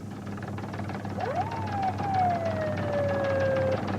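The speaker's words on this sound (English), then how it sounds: "Hit the siren, Doug." A single police car siren whoop rises quickly then slides slowly down in pitch, moderately loud over a steady low rumble of traffic, during the 1992 Los Angeles riots.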